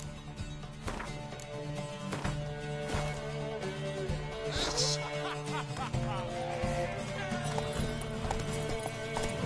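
Steady clip-clop of horse hooves trotting in The Witcher 3 video game under a continuous background bed, with a brief whinny-like sound midway; no clear speech.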